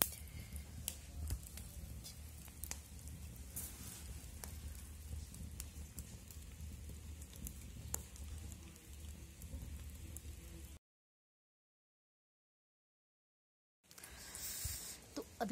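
Steady rain falls on an outdoor surface near a small fire, a soft continuous patter of drops that runs for about eleven seconds, breaks off into silence, then returns briefly.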